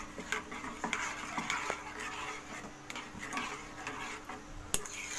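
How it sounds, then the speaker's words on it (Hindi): Spoon scrapes and clinks against a pan as mango jelly ingredients are stirred and mixed, a steady run of soft scraping with occasional sharper taps, close and moderately quiet. "सबको अच्छी तरह मिला लेंगे"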